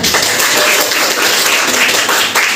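Brief burst of classroom applause at a practical lesson, many hands clapping in a close, lively patter that stays fairly loud and steady throughout.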